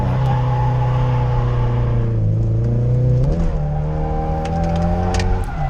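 A Nissan S14 drift car with 17x9 wheels and 225-wide tires at 40-45 psi laps a drift event, its engine droning loud and steady with rising revs and some tire noise, no talk.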